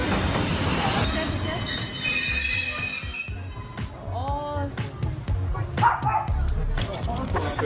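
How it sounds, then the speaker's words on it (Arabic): A train scrapes along a car stopped on the tracks, giving a loud grinding screech with squealing metal and rumbling that fades, then clatters again. "لما تكون الحكة من قطر فأكيد هتحتاج عربية تانية"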